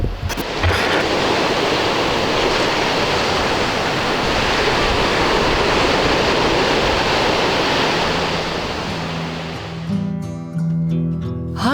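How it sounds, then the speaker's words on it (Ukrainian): Sea waves wash steadily onto the shore in a loud, continuous roar of surf with some wind noise, easing off near the end. "Гарний краєвид, свіже повітря і звук морських хвиль."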